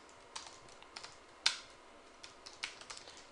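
Keystrokes on a computer keyboard as a git commit command is typed: scattered light clicks in an uneven rhythm, one sharper tap standing out, close and alone without talk.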